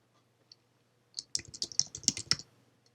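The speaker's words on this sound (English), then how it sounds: "just click inside the cell and type your text" Text is typed on a computer keyboard in a quiet room: a brief, quick burst of close, light key clicks after a near-silent start.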